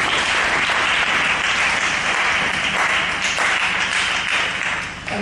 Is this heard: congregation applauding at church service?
yes